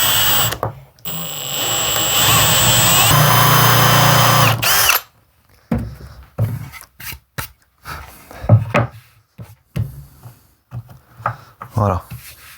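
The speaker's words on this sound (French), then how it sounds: "je vais percer sur l'arrière" Power drill boring into the back of a wooden tree-branch lamp, a loud steady whine for about four seconds that then stops, followed by scattered knocks and handling noises while a person speaks.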